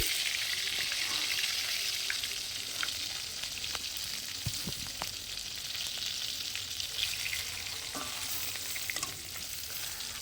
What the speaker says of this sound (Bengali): বাকি মাছগুলো সমস্ত আমি এইভাবে কড়া কড়া করেই ভেজে নিচ্ছি